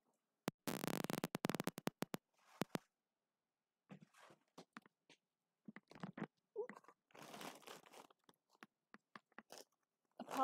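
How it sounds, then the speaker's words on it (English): Close, quiet rustling comes in quick crinkly bursts, first a dense rapid flurry, then sparser scattered rustles and soft crunches with silent gaps between them. "Apologize for the rustling."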